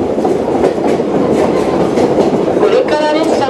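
A Watarase Keikoku Railway torokko train runs on its rails with a steady rumbling roll and faint rhythmic clatter of wheels, ending in a brief high squeal.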